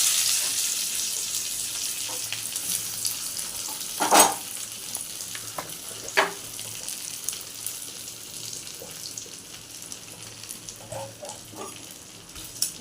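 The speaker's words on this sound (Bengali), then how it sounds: "হালকা করে পেঁয়াজ কুচি দিয়ে দিচ্ছি।" Chopped onion dropped into hot oil with a cumin tempering sizzles in a steady high hiss, broken by a few sharper spits and crackles near the middle; no one talks.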